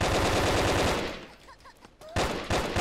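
Sniper rifle and automatic gunfire in the blocky online shooter Brick Force, dense loud bursts at first, then a brief lull with faint pings and a thin rising tone before the firing resumes loudly.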